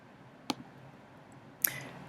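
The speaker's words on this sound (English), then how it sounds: "I'm going to two-finger click on the Science tab" Two crisp laptop trackpad clicks, sharp and close, spaced about a second apart against a quiet background.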